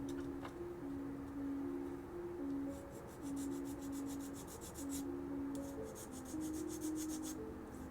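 Sprue nubs are cleaned off a plastic part from a 1/25 AMT 2021 Ford Bronco model kit, heard as quick, close rasping strokes in two short runs.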